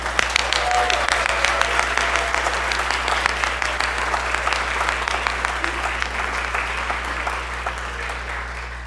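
An audience at a school band and orchestra concert applauds steadily and loudly, the clapping sustained for several seconds over a low hum.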